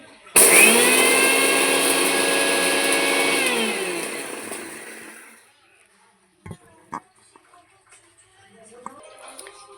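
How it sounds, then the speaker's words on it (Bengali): An electric kitchen mixer grinder whirs loudly while powdering sugar. It starts abruptly, runs for about four seconds with a high whine, then winds down and stops, followed by faint handling clatter. "এই চিনিটা আমি অল্প অল্প করে দিয়ে দেবো দিয়ে মিক্সিতে আবারও গুড়িয়ে নেব"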